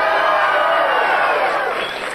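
A studio audience on the Swedish dating show Tur i kärlek shouts and cheers loudly and continuously, a dense roar of voices that fades slightly toward the end.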